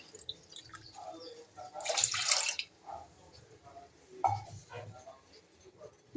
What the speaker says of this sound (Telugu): గ్లాస్ వాటర్ తీసుకొని సగం వాటర్ పోస్తున్నాను